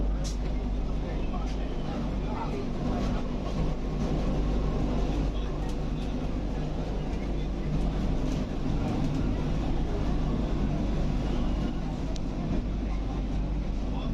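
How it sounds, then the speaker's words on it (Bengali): Steady low rumble of a Vande Bharat Express train rolling out of Bhagalpur station, India, a constant mechanical drone with faint rattles throughout, with no clear voices standing out. "আমাদের ট্রেন ঘড়ির কাঁটায় ঠিক 11টার সময় ভাগলপুর স্টেশন ছেড়ে হাওড়ার পথে রওনা দিল।"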